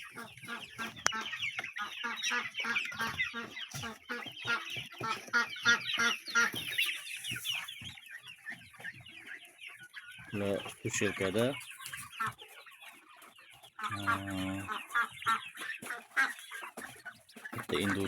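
Young chicks on a poultry farm cheep and peep in a dense, continuous chorus nearby, with clucking fowl and occasional voices talking over the flock.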